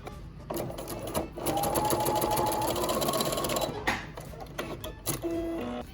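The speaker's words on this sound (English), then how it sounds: "We're going to sew this right sides together, the chin piece to the bottom of our mask." Sewing machine stitching a neoprene face mask chin piece to the mask bottom, a steady close mechanical hum for several seconds, then brief stops and short bursts of stitching.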